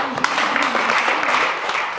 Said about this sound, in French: On peut applaudir vos camarades.